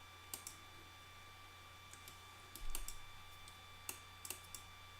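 Scattered keystrokes on a computer keyboard while entering a search term in a WordPress admin screen: a few faint, sparse clicks spread across the stretch with a slightly louder cluster in the middle, alone over a quiet electrical hum.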